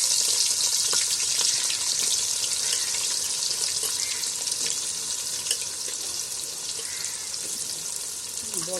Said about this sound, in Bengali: এবার আমি পেঁয়াজ দিয়ে দিচ্ছি